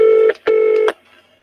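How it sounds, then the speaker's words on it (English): A telephone rings for an incoming call in a phone booth setting, with two loud electronic tone bursts in quick succession that leave a faint tail afterward. No one talks over the ringing. "Oh dear, there's a phone call."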